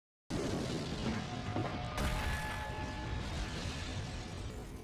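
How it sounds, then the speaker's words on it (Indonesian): A sudden deep boom breaks the silence, followed by a sustained rumbling roar and crackling debris that fades slowly. "Tapi tiba-tiba toko yang dimasuki putrinya meledak."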